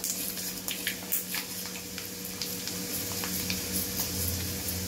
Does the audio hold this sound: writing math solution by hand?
no